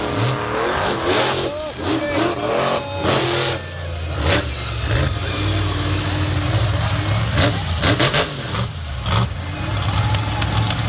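Monster trucks Crustacean and Lumberjack rumble and rev at a speedway show, loud engine drone rising and falling continuously while an announcer talks over the noise.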